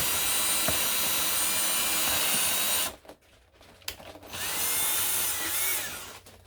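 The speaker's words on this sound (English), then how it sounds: "Maya took a drill and he drilled a hole right in the bottom of these cups." A power drill bores drainage holes through the bottoms of plastic cups, whining loudly up close, cutting out briefly mid-way, then spinning up again in another burst.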